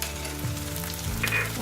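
Chopped paneer pieces fry with browned onion in a pan, a steady close sizzle running throughout with a slight swell near the end.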